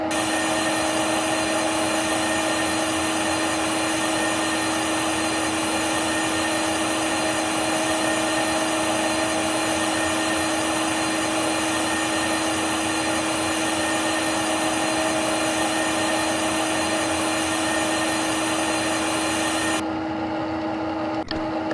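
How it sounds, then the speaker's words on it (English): Simulated lathe turning a workpiece by 2 mm down to a 28 mm diameter in a lathe simulation app, a steady loud machine hum and whir that runs unbroken throughout and drops off near the end. "we will now start the 2 mm turning operation to get the 28 mm"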